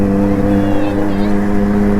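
A superbike engine runs loud and close, holding a steady, droning rev with a strong humming tone throughout.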